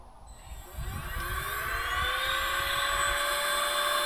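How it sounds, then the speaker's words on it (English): A rechargeable magnetic hammer knocker switched on against a tractor during a 50-hour service, giving a steady high-pitched whirring buzz with shifting tones that rises after a brief start and holds loud and continuous, with no talking. "And then you just turn that bad hammer knocker on."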